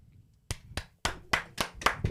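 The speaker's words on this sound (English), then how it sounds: "Round of applause." Sharp, distinct hand claps from a small group on the set of an On Air talk-show episode, about seven crisp claps in an uneven rhythm, close and loud after a brief quiet start.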